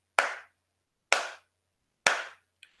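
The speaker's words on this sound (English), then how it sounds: "if you simply clap your hands" Three sharp, evenly spaced hand claps ring out close and loud, each decaying quickly into silence, followed by a faint brief tap at the end.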